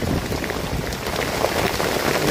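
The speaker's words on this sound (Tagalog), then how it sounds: "Sobrang lakas ng ulan." Very heavy rain pours down in a dense, continuous roar of drops hitting surfaces close by, loud and unbroken with no voices.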